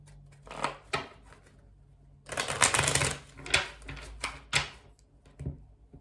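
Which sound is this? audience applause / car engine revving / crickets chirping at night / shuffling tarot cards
shuffling tarot cards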